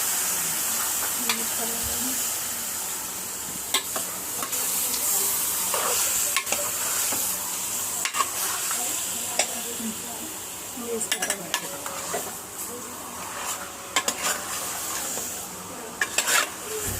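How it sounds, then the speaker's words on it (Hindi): Chicken fries and is stirred in a pan with ginger and garlic, giving a continuous sizzle broken by repeated scrapes and clinks of a utensil against the pan. A voice speaks briefly in places. "अदरक लहसुन भून के अब चिकन ऐड करेंगे।"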